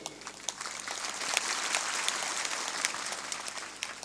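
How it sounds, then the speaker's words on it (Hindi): An audience at a Hindi spiritual discourse claps, producing a soft, scattered patter of individual hand claps from a seated crowd, fairly faint and uneven, with no talking over it. "थोड़ा जोर से ताली बजाया करो।"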